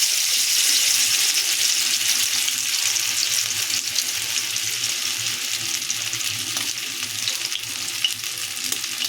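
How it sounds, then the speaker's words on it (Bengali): Coated pomfret fish frying in hot oil, a steady loud sizzle and crackle that fills the whole stretch with no voices. "এর মধ্যে দিয়ে দিচ্ছি এই কোট করা মাছ।"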